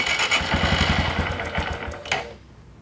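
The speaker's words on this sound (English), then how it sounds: "The Grom is having an idling issue." Honda Grom motorcycle engine with an idling issue, running close by with a steady low pulsing rumble for about two seconds before cutting out abruptly.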